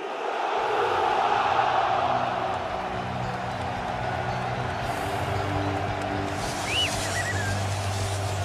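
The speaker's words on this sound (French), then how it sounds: "Je vous demande d'applaudir" Audience at a football club's player signing presentation applauding and cheering, a broad crowd roar over music, with a brief whistle near the end.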